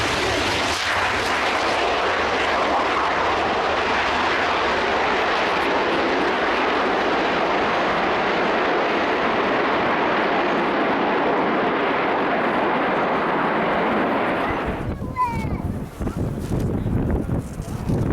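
Loud, steady roar of jet aircraft from the Frecce Tricolori formation at the Royal International Air Tattoo airshow, sustained for most of the clip before cutting off sharply near the end.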